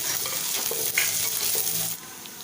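Chopped onions, green chillies, ginger and garlic sizzling and frying in a pan for egg gravy, a dense steady crackle with a brief stir partway through, then quieter at the end.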